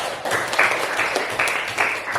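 Students in a junior high classroom clap together for about two seconds after a classmate's answer, a moderate, fairly close burst of many hands with slight swells in intensity and no talking.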